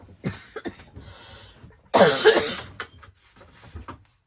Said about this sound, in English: I wasn't coughing before I started the video, and now I can't stop.